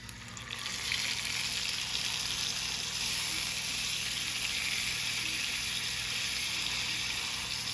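Steak being stirred as it sizzles in a hot frying pan, a loud, steady, continuous hiss and crackle that holds evenly throughout with no talking.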